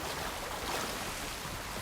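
Steady broadband rush of a waterfall in the action RPG No Rest for the Wicked, a continuous even wash of falling water that holds at a constant level with no other sounds over it.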